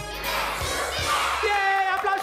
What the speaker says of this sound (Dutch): Yay, applaus voor jullie.